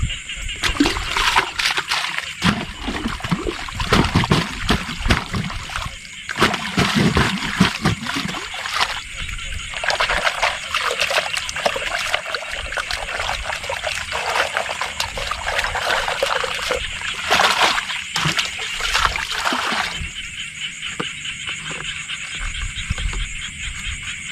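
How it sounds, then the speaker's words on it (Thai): A bait container is rinsed in water out in a rice paddy during a fishing trip, giving steady trickling, sloshing and splashing close by with no talk. "เดี๋ยวขอล้าง กระบอกเหยื่อก่อนนะครับ"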